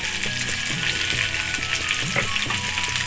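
Cut okra frying in an open pan of oil with turmeric stirred in, giving a close, steady, crackling sizzle that runs unbroken throughout with no voices.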